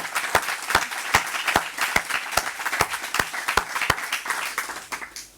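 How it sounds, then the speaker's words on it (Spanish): Audience applause at a book presentation, rhythmic unison clapping with sharp, evenly spaced claps over a softer background of scattered hands, fading out near the end. "el público aplaudió"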